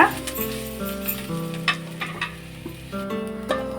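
Chicken frying in a pan for a double masala chicken sambhar, a steady sizzle with stirring clatters and scrapes, while background music plays beneath.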